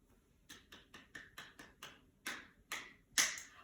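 A child claps a short rhythm with bare hands in a quiet classroom, about ten distinct claps in an uneven pattern, the last few louder and sharper, with nothing else heard.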